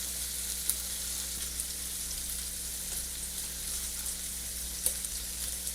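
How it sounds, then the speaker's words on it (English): Potatoes boiling in a pot on the stove, a steady bubbling hiss with a constant low hum and a couple of faint clicks, moderately quiet and without talk. "And the potatoes are boiling."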